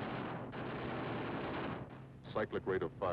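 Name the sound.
P-47 Thunderbolt's eight .50 calibre machine guns firing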